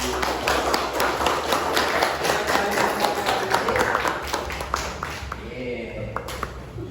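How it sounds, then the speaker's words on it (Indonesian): Steady pattering applause from pupils in a fourth-grade Islamic ethics (Akidah Akhlak) classroom lesson, dense clapping for about five seconds that thins out near the end, with voices mixed in. "Terima kasih, tepuk tangan dulu."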